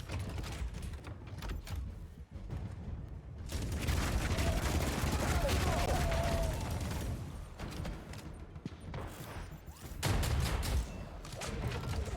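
Gunfire in a mech combat game clatters as a steady stream of shots against mechanical creaks and whirs, with louder stretches of firing and a sharp burst near the end.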